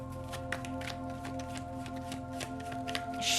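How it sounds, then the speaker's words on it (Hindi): Tarot cards are shuffled by hand in a series of soft, quick riffles and taps, close up and fairly quiet, with a steady tonal background running underneath. "Shuffle shuffle shuffle for Aries. Thank you so much. Oh, that's a good shuffle."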